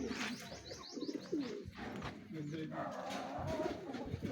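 Breeder pigeons coo softly at close range in a loft, with low throaty calls and a few chirps; a person talks quietly among them.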